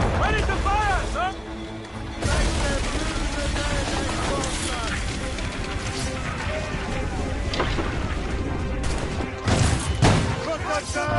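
A musket volley rings out in the Assassin's Creed Rogue video game amid chaotic battle noise: a dense burst of gunfire crashing over shouting voices and a constant loud din of combat.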